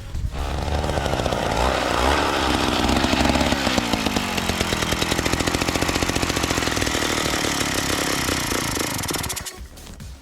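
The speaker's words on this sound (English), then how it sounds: "we're gonna go dig some holes in a little bit with the auger" A small gas-powered ice auger engine roars at high revs for several seconds, steady and loud close by, then cuts off abruptly near the end.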